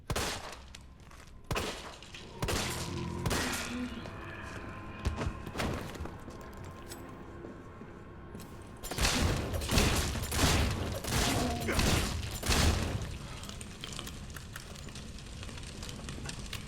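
Gunfire against police in Resident Evil 3 Remake: loud, sharp shots and thuds fire in irregular bursts, growing denser in the second half over a low rumbling background.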